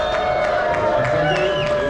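An audience at a convention contest cheering and whooping in a continuous crowd roar, with mixed voices and scattered clapping, fairly loud and sustained.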